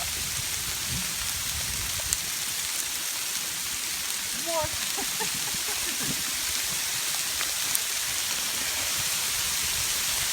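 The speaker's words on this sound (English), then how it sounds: "Hailstorm." Hail pattering steadily on trees and foliage at a woodland camp, a dense, even hiss of falling ice throughout with a few faint, brief voices in the background.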